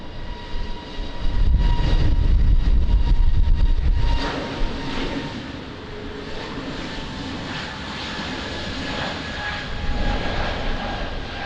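An airplane engine roars at Lisbon Airport, a loud broad rumble that swells early, then settles into a steady sustained whine with tonal hum, no talk.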